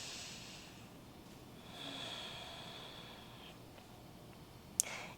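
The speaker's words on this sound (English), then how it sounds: "Breathe for 3." Slow, audible breathing during a yoga pose in an advanced vinyasa flow, with a long airy exhale through the nose or mouth over steady room hiss and a brief sharp click near the end.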